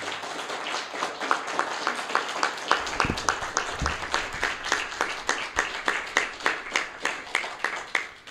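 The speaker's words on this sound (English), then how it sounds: "please, everyone, thank Fred with a round of applause" Audience applause thanking a guest at an evening art museum talk: many hands clapping steadily with crisp, evenly spaced peaks throughout, fairly close and moderately loud, with no talking over it.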